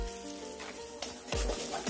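Kaffir lime leaves stir-fried in ground spice paste for spicy squid give off a low, steady sizzle, broken by a couple of sharper scraping stir strokes near the end.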